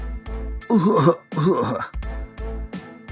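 A man coughs and clears his throat in several rough bursts, with a groaning voiced cough in the middle, close and fairly loud, as in a dramatized martial-arts story.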